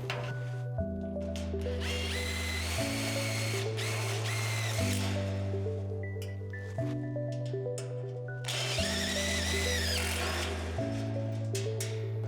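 A power drill drives screws into composite joist bridging, with repeated rising whines in several bursts separated by short pauses, close and clear with no talk.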